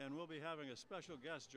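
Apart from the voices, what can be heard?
None of the usual background noises is heard.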